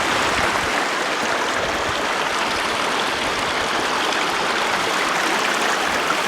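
A river flows across a moor with a steady, close rush of water, a continuous broad hiss and burble that stays even throughout with no other sounds.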